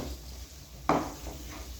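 A spoon stirs chicken liver into masala in a pan, giving a single sharp scrape and clink over a faint, steady background hiss.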